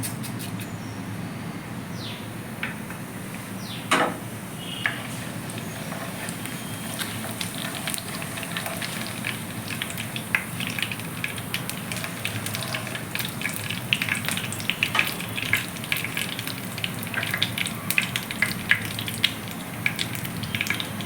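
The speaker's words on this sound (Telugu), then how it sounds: "ఆయిల్ వేడెక్కింది ఆవాలు తీసుకొని చూద్దాం" Mustard seeds crackle and pop in hot oil in a pan while cooking a tindora curry, a steady sizzle of close, dense crackles with scattered sharper pops throughout.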